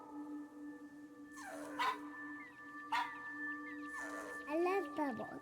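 A dog named Manju in the video game That Dragon, Cancer barks in short bursts and whimpers with high, wavering whines over a steady electronic tone. No one talks.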